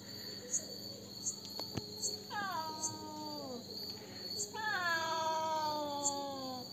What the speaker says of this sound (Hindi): बिल्ली दोस्तों देखिए ये मुझे काटने के लिए आ रही है।